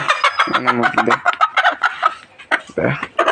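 A broody hen clucks nearby in short, repeated calls while a person talks over it.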